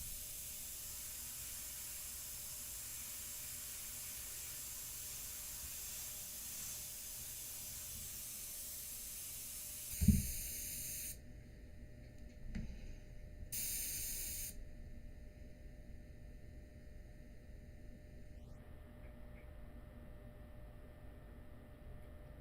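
Airbrush spraying India ink about three inches from a portrait, a steady soft hiss running continuously for a long stretch, then cutting to intermittent short bursts after a brief knock.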